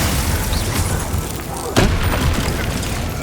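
A fire spell, Incendio, cast in the Hogwarts Legacy game: one sharp, loud fiery burst with a brief crackling tail rising out of dense, continuous game noise.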